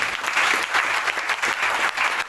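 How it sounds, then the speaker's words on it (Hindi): Seated audience at a business seminar breaks into energetic applause, many hands clapping in a dense, loud, sustained roar with uneven surges and no talking. "सो न्यूट्रीचार्ज के लिए एक जोरदार तालियां बनती है"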